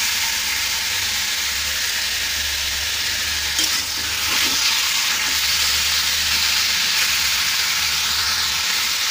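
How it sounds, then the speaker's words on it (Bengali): Chicken pieces fry in a pan for chicken kosha, giving a loud, constant sizzling hiss with a brief clatter midway, close and uninterrupted by speech. "এবার এটাকে একটু ভেজে নেব।"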